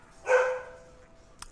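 A single dog bark from a video game, loud and fairly close, standing alone against a quiet background, followed by a brief faint click.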